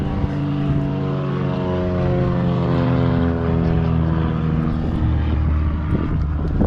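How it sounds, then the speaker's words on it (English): A propeller airplane passes overhead near a seaside jetty at Encounter Bay, South Australia, a loud, steady droning hum with layered engine harmonics that lasts throughout, with no talking. "there's a plane going over"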